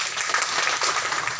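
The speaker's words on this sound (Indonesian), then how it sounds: "Kembali kita beri aplaus." An audience at a police thanksgiving service applauds, a brief dense burst of clapping from the crowd.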